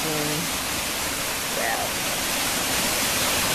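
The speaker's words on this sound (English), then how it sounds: "All this water from the road is going down into the gully." Rainwater from a road rushes down a normally dry gully during heavy rains, a loud, broad, continuous roar of flowing water that masks brief speech near the start.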